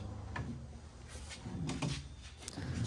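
Wooden dresser drawers being pulled out during furniture restoration, several soft scraping slides and knocks in quick succession, close and quiet.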